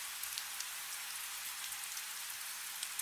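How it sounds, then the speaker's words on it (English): Steady rain falls on stone, a soft, even hiss with scattered faint drop ticks, gentle and continuous with no voices. "The rain continues to fall,"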